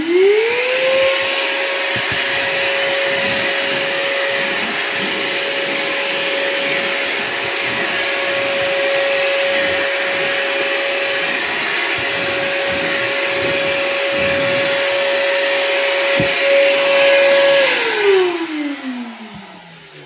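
A Ryobi 40V battery shop vacuum runs steadily at close range with a constant whine and rushing airflow, spinning up at the start and winding down near the end.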